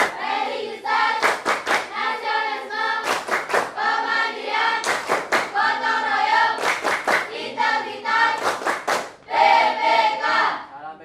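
A classroom group of children and teachers claps in rhythmic patterned bursts, crisp sharp hand claps in quick sets separated by short pauses, with voices chanting along between and over the claps.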